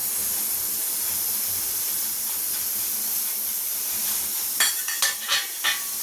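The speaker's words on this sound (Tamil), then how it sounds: "இப்போ தண்ணி வந்து நமக்கு வந்து கொதிக்க ஆரம்பிச்சிருச்சு" A steady hiss of a pot of water coming to a boil with ginger, cardamom, cinnamon and cloves for Sulaimani tea, with a few sharp clinks and taps of spices or a spoon near the end.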